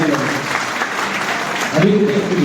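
Audience applause at a Hindi poetry gathering welcoming poet Hemant Pandey, a steady wash of clapping from a crowd that swells louder toward the end, with a voice speaking over it.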